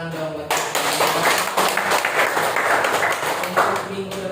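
A class applauds with a burst of mixed clapping that swells quickly and keeps a loose patter, heard close by over a video call, with voices underneath.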